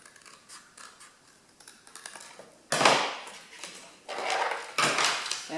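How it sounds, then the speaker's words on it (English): Scissors cut through a piece of card box in sharp snipping strokes, starting quiet and rough and then three loud crisp cuts, close and with no talking. "Now I'm going to cut this extra piece off because we don't need that bit."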